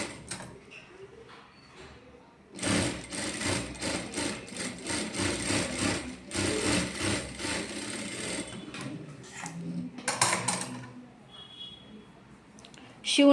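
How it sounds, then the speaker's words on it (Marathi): A sewing machine stitches around all four sides of a homemade fabric mobile pouch. It runs in a long steady whirring burst, then gives a few shorter runs. Quieter handling sounds come before and after. "आता मी तुम्हाला शिवून दाखवणार आहे. तर बघा, अशा पद्धतीने आपल्याला आता चौ बाजूने शिवून घ्यायचं आहे."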